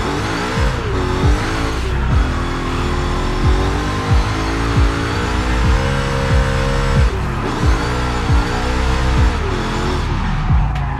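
A BMW E30 corners in Forza Horizon 5, its engine droning and rising and falling in pitch through the turns, with gear-change dips and a faint tire squeal, loud and close throughout.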